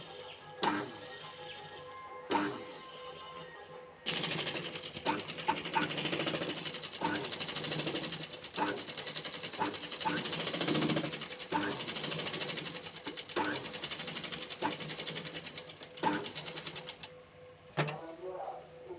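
A sewing machine stitching a blouse runs in a fast, rattling, continuous chatter, close and loud, pausing briefly a few times before stopping near the end; a voice talks faintly over it in places.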